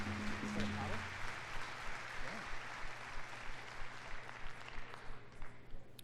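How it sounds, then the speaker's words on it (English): A conference audience gives a round of applause, a broad, sustained clatter of many hands at moderate distance, with faint voices mixed in underneath. "So let's give them a round of applause."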